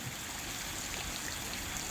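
Rain floodwater flows steadily with a soft, continuous rushing hiss, fairly quiet and even throughout, no voices.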